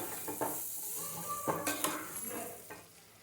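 Chicken fry with coriander stirred in a pan, a few sharp scrapes and clinks of the spoon over a steady soft sizzle, close and fairly quiet.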